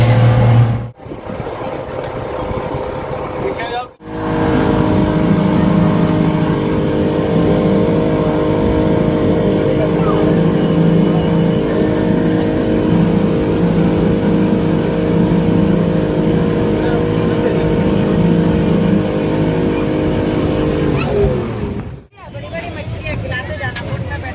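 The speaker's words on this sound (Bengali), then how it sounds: "আমরা বোটে উঠে গেছি বোটটা এবার যাচ্ছে দেখো" A motorboat carries passengers across a river near Rishikesh, its engine droning steadily and loudly for most of the ride, starting and stopping at the edges, with faint chatter underneath.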